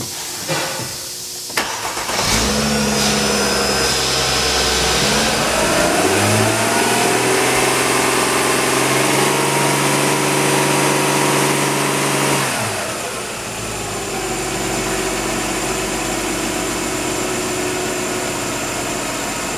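A 2007 Mercedes ML engine starts and runs loudly up close, revving up with a rising whine, holding a strong steady drone, then easing back toward a lower idle.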